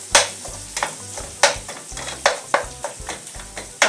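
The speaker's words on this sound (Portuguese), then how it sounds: "Vou virar aqui, dar uma mexidinha." Pork and rice frying in a pan are stirred with a utensil, giving repeated scraping knocks in an uneven rhythm over a steady sizzle, close and with no talk.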